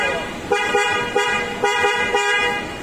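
An upgraded snail-type horn on a 2021 Toyota Fortuner gives a series of loud, close, two-tone honks in short repeated bursts.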